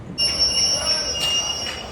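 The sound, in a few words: passenger train braking at a railway station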